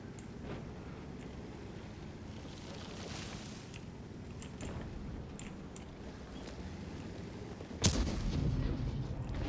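Artillery shells firing in the tank battle game World of Tanks, with distant muffled booms and rumbling through a steady ambient wash and one sharp, louder blast near the end.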